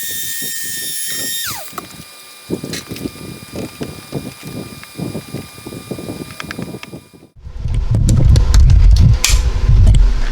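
A small 3-inch polisher fitted with a 2-inch pad whines on a Jeep Grand Cherokee, a thin high-pitched motor tone with faint pulsing. It stops abruptly and is followed by a louder rumbling, scraping burst.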